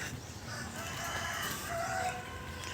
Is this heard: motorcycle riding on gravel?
no